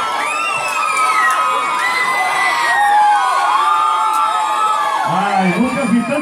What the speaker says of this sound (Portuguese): nunca vi tanta mulher gritando